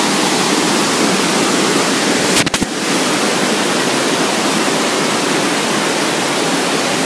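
Simili (Panikhai) waterfall in Nayagarh roars as a steady, loud, broadband rush of falling water that fills the whole stretch, broken only by a brief knock midway.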